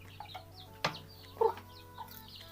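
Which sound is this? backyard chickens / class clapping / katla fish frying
backyard chickens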